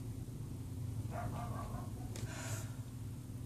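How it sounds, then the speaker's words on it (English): A dog barks a few times in the distance, faint sharp yaps over a steady low hum. "Really, dog is barking."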